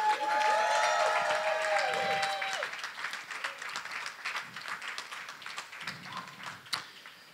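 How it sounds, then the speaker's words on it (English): Wedding guests at a ceremony applaud in a full burst that gradually thins to scattered claps, with whistling and cheers at the start. "Ladies and gentlemen, let's give a big round of applause"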